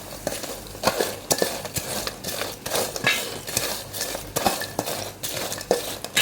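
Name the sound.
stirring banana chips with spice powder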